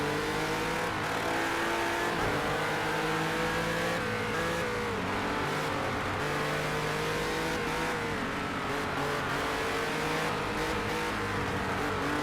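A race car engine in Project CARS 2 drives hard around a track, loud and close, with continuous revving that climbs and drops through gear changes and occasional tire squeal, no talk.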